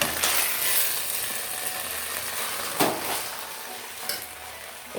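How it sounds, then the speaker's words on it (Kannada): Baby corn Manchurian is tossed in a pan over a high flame, with a loud, continuous sizzle and occasional clanks of the pan and spatula. "ಈ ರೀತಿಯಾಗಿ ಹೈ ಫ್ಲೇಮಲ್ಲಿ ಇಟ್ಟುಕೊಂಡು ಒಂದು ಸತಿ ಚೆನ್ನಾಗಿ ನೀವು ಟಾಸ್ ಮಾಡ್ಕೋಬೇಕು."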